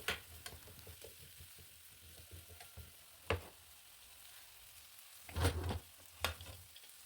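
Onion, vegetables and masala fry in a pan with a low, steady sizzle, broken by a few louder scrapes and clatters from stirring. The sound is close but fairly quiet, and nobody speaks.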